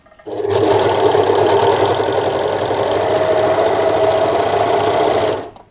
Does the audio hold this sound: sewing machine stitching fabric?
yes